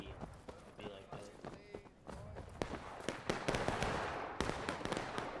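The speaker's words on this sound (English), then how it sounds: "they're shooting at us again" Musket fire in the Civil War game War of Rights pops in scattered sharp cracks, some near and some distant, amid running footsteps while players talk over the action.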